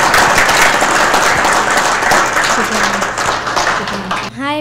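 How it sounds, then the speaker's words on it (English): A crowd at a town hall rally fills the room with loud, sustained applause, cheering and hollering that tapers slightly before a speaker's voice comes in. "So give them a round of applause."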